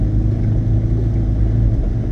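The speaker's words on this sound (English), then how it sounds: "truck coming down, so I'll wait here perhaps" A fisherman's truck rumbles along a narrow road in Mevagissey, heard as a steady low engine drone, loud and close, with no clear rise or fall.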